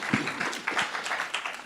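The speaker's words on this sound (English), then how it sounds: "Can we give them a round of applause?" Audience at a presentation session claps for a team, a soft, uneven patter of hands in a room, moderately distant and brief.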